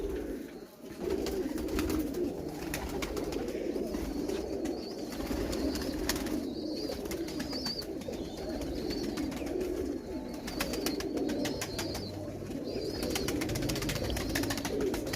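Pigeons coo in low, throaty murmurs over a steady background hum, with soft rustling and faint flapping, fairly close and continuous.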